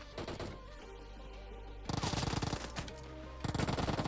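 Rapid automatic gunfire from the PUBG Mobile game, loud dense bursts of hip-fire shots in two long volleys with a short gap, over a steady game background.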